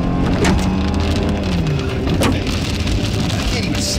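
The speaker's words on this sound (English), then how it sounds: "So we've got a monster hail core bearing down on us." Large hail pelting a car during a supercell storm, a loud continuous roar of dense impacts on the roof and windshield with sharper individual hits scattered throughout, heard from inside the vehicle.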